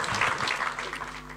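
Applause from an audience at a political rally in Campobasso, a dense burst of clapping that rises then gradually thins over a short span, heard alone without talk.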